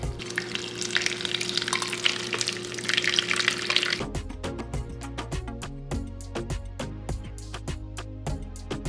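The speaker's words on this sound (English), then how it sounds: "I'm putting it through a coffee strainer, by the way, because I want it to be very smooth coming out of here." Dashi stock is poured through a coffee strainer in a kitchen, heard as a steady liquid hiss for about four seconds. It is followed by a clatter of light, rhythmic ticks and taps.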